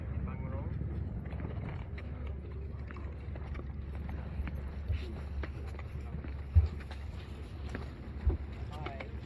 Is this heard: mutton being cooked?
no